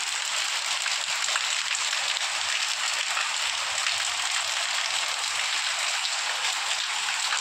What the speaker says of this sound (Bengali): দেখুন কত বৃষ্টি হচ্ছে আমাদের এদিকে